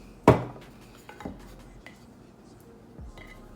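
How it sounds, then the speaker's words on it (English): A knife trims vinyl wrap along the rounded edge of a tumbler with a sharp clink of metal on the cup, then softer scrapes and taps that fade out in a quiet room. "I'm just going to run my knife along there."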